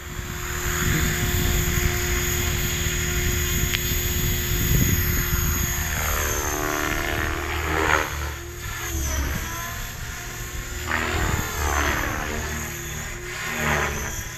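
T-REX 550 RC helicopter flying 3D aerobatics, including inverted flight, its motor and rotor whine loud and continuous with pitch sweeps and surges as the throttle changes throughout.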